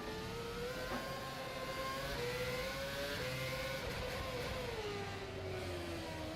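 Simulated race car in rFactor 2 at a Singapore street circuit, its engine holding a steady mid-pitched drone that shifts and glides in tone as revs change, loud and continuous throughout with no talking.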